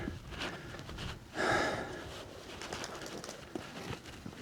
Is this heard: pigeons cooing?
yes